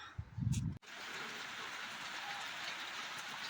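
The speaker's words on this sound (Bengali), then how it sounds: "বৃষ্টি চলে এলো, কি জোরে বৃষ্টি পড়ছে" Heavy rain falls steadily after a short burst of low rumble at the start, then a dense, even broadband hiss of rain continues loud and unbroken to the end with no talk.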